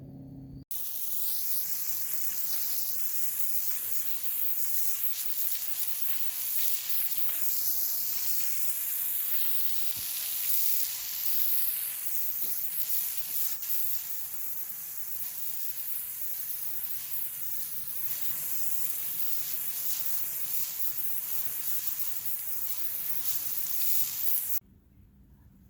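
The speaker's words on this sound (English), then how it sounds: "Now I'm going to go ahead and give it a quick rinse" Water spray from a hose rinsing a cracked concrete driveway, a steady broad hiss running continuously for about 24 seconds at close range, then cutting off abruptly.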